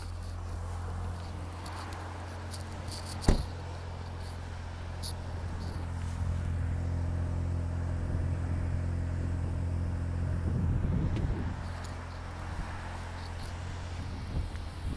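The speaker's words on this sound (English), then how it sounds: "let's start this car up" A CUPRA Ateca 2.0 TSI 300 hp 4Drive DSG car engine idles steadily close by, with a sharp start-up burst early on and a brief rev swell later, running alone without talk.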